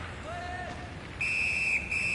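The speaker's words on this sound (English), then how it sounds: "Puck covered, whistle blown." Referee's whistle at an ice hockey game, a short faint tweet followed by a louder, steady shrill blast lasting under a second, over crowd and arena noise.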